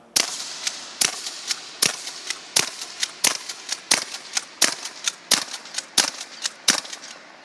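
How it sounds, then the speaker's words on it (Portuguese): A Hatsan AT-44 10 PA air rifle fires ten sharp shots in rapid succession, evenly paced at close range, each a crisp snap with no other sound between. "10 tiros, tiro tático na correria"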